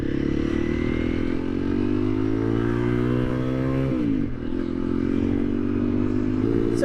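A motorcycle ridden by a beginner drones loudly and steadily, then its engine note sinks and chokes as it stalls, followed by a brief rattle and a fresh engine sound near the end.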